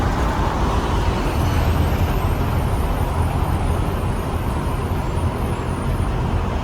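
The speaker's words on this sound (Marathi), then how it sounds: "इथं चालले टायराचा आवाज सगळा घुमा लागलाय" Continuous heavy road roar from passing trucks' tyres echoing on a downhill road slope, loud and steady throughout with a hollow, rumbling quality.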